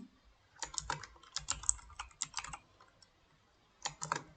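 Fingers type on a computer keyboard in quick bursts of soft clacking keystrokes with short pauses between, faint and close, with no voices.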